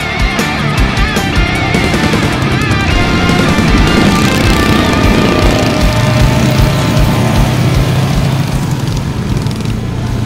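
GPS 180 minibikes race around a flat track in a one-hour juniors race, their small engines buzzing loud and continuous with overlapping whines, and a lower steady drone rising near the end.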